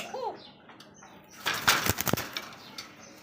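Wings of a pair of koka pigeons flap in a short burst of fluttering beats, fairly close, after a quieter stretch with a faint bird call at the start.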